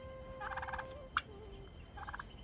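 A turkey gobbles in a Nepali village with maize fields, two short rattling gobble bursts a little apart, moderately near over quiet outdoor ambience with a brief sharp call between them.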